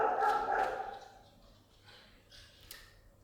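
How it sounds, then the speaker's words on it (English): A large, very dark Alsatian next door barks a few times at a distance, then gives fainter yips and whimpers, the sounds sparse and muffled with quiet gaps between them. "the neighbor's dogs are very annoying sometimes."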